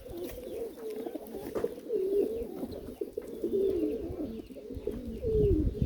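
Pigeons close by give low, throaty coos that repeat and overlap in a steady warbling run over a soft rustle.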